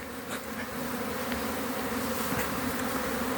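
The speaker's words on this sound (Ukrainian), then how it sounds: "пчолки літають" Honeybees fly around an apiary on a cool spring day, their buzzing a dense, steady hum that fills the air without a break, close and continuous with no voices.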